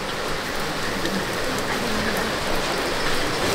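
Steady, dense rain falls on surfaces, a constant close hiss of drops with no pauses and no voices.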